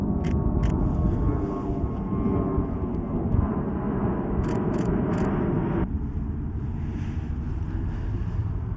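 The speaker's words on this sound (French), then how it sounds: "Oh, un avion! J'avais pas vu!" A broad, steady roar of an airplane overhead persists throughout, dropping slightly near the end, with a few sharp clicks scattered on top.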